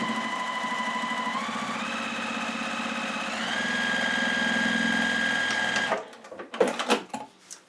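A sewing machine top stitches close to the edge of a fabric sunglasses case, running as a steady close whir for about six seconds before stopping, followed by handling clatter and rustling.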